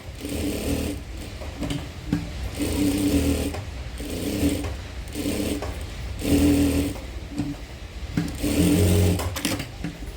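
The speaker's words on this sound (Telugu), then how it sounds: "లైనింగ్ పైన నుంచి ఒక్కొక్క ఫుల్ రౌండ్గా స్టిచ్ చేస్తాం." A sewing machine stitches round a blouse lining in about five loud, close runs of rapid mechanical whirring, each separated by a short pause.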